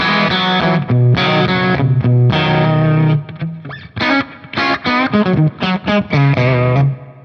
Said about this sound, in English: it makes my guitar sound more like a Tele